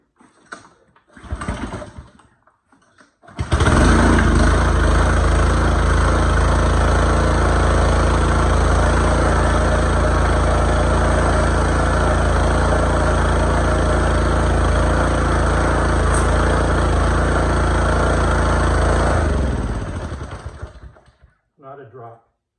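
Petrol engine on a repaired pressure washer: a few brief pull-start attempts, then a loud, close engine catches and runs at a steady drone for about sixteen seconds before cutting off.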